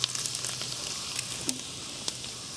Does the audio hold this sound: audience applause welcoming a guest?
no